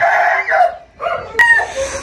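An injured bantam hen with a neck wound gives a few close, drawn-out, wavering calls separated by short pauses, with a sharp click midway and no talking.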